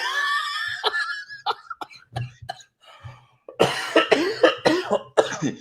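A man coughs in a string of harsh, sharp bursts, then breaks into a louder fit of rapid coughing, close by and alone.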